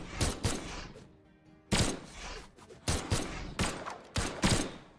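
Gunfire from the guns weapon in the fighting video game Brawlhalla during a tournament match, sharp bursts of repeated shots in clusters with short pauses, loud and close.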